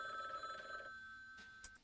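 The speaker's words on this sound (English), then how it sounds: "It's a phone!" A telephone ringing in the video game Frog Detective, a steady electronic ring that stops partway through, quiet with no talking.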